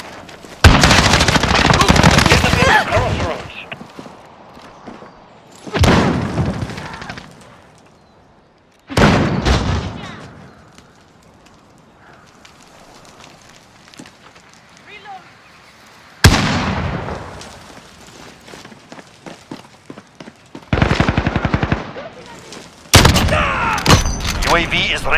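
Rapid automatic gunfire from a first-person shooter video game comes in several loud sustained bursts separated by quieter stretches of game ambience, with voices talking in between.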